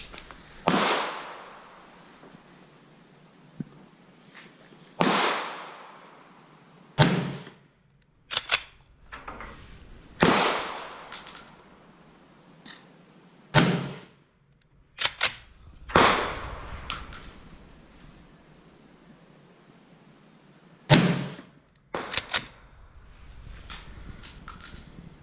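A Swiss Schmidt-Rubin M1911 infantry rifle in 7.5x55mm fires about seven spaced shots at a range target 100 yards out, each a sharp, loud crack with a short decaying tail, separated by quieter pauses with faint handling sounds.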